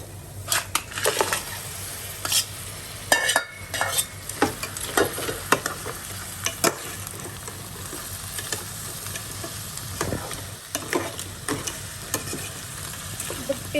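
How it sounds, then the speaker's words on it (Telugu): Crabs dropped into a pan of softened onions for Andhra crab curry, giving a steady close sizzle of frying broken up by repeated stirring scrapes and clatters, with no talking. "ఇప్పుడు మనం పీతలు వేసుకుందాం."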